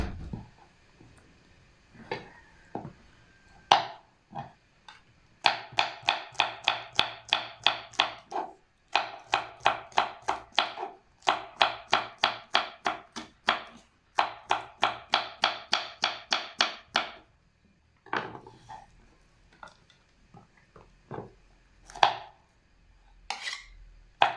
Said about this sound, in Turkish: ezmeden domateslerimi de doğrayayım